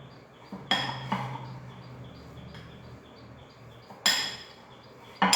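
Paneer, curd and millet kabab ingredients being mixed in a bowl, heard as a few sharp clinks of a utensil against the dish with soft scraping between them, quiet and without talk.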